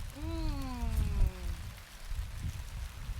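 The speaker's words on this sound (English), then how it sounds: "A nice rain shower that gently rolled through." Light rain from a gentle outdoor shower patters steadily in a garden, a soft, constant hiss, with a brief sliding tonal call sounding over it near the start.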